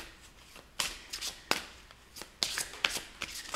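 Tarot cards being shuffled by hand in a quiet room, a series of soft riffling swishes and flicks in irregular bursts, close and fairly faint, with no talking.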